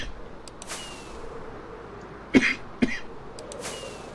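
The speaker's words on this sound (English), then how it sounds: "Sorry about all the coughing." Two sharp coughs close to the microphone, a short pause between them, over a steady low background hiss.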